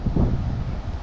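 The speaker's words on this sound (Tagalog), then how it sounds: "Tapos grabing lakas ng hangin." Strong wind at sea during a rough amihan fishing trip off a reef with big waves roars loudly and steadily into the microphone, a close, dense rumble with no talking.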